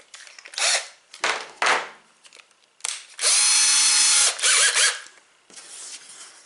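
A power drill whirs in short bursts, then runs steadily for about a second as it bores into wood, with rattling and clicks between.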